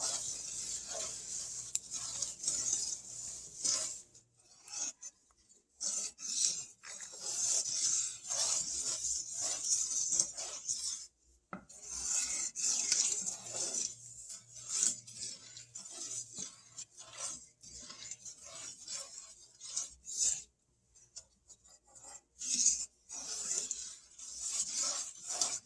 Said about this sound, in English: You're going to want to stir it maybe about 2 minutes